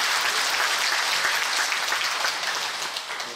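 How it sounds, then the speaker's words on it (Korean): A church congregation at a Korean teachers' festival applauds the pastor with loud, dense, continuous clapping from many hands that stays strong before easing slightly at the end. "우리 고우신 목사님께 박수 한번 하겠습니다"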